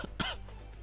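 A single sharp cough from a player in the middle of a tense online battle royale shooter match, short and close with quiet background afterward.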